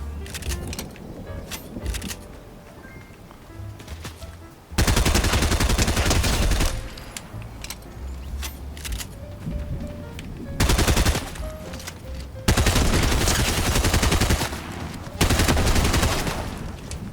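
Bursts of rapid gunfire in Fortnite, loud automatic volleys recurring several times between quieter stretches of background game noise.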